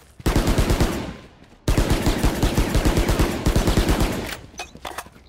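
Rapid automatic gunfire in the shooter game Valorant, two long bursts of closely spaced shots with a short pause between, loud and close, then a few scattered single shots trailing off.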